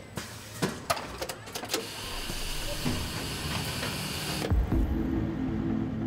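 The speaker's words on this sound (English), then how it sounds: "this machine binds the bottles together with an ultra-thin, 40 micrometer thick strip of plastic" Packaging machine binding bottles with an ultra-thin 40 micrometer plastic strip fed under air pressure, giving mechanical clicks and clunks, then a sustained pneumatic hiss ending in a sharp air blast and change in tone.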